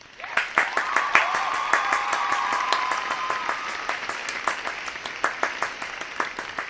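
Young participants in an online theatre class applaud together, a sharp, crisp clapping that builds quickly and carries on steadily, with a voice talking faintly underneath early on.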